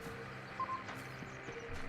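A Pathfinder locator device in the video game Stars Reach emits faint, short electronic beeps spaced irregularly over a quiet ambient game background.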